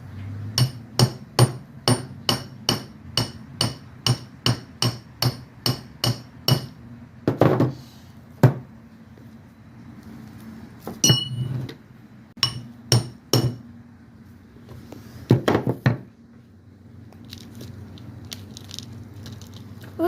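Crowbar repeatedly striking and chipping a plaster dinosaur egg, a quick, evenly spaced run of sharp close knocks, then scattered heavier cracks and crumbling scrapes with pauses between.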